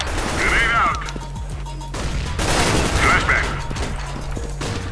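A video-game grenade blast and gunfire burst out loudly and up close, crashing repeatedly amid mechanical clicks and shots, in a busy firefight.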